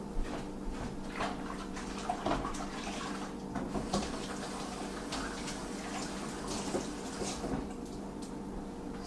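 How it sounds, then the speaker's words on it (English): Water runs steadily from a kitchen tap as hands are washed during ham preparation, a soft continuous wash with small splashes and a few faint clatters. "Let me throw this away and wash my hands."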